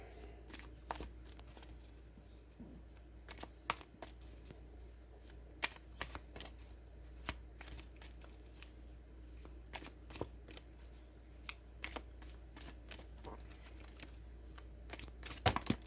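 Tarot cards being shuffled and pulled from the deck: a steady run of quiet, crisp riffling snaps and flicks with short pauses between them.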